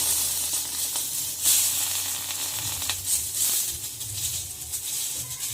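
Tomatoes frying in hot oil for tamarind leaf chutney give a steady, close sizzle and hiss with faint crackles throughout and no speech.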